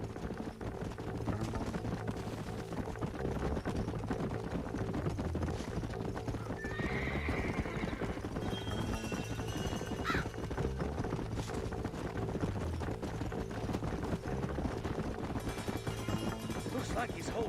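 Horse hooves clip-clop steadily for a long stretch in the Red Dead Redemption western video game, with a horse whinnying midway and a low rumbling ambience underneath throughout.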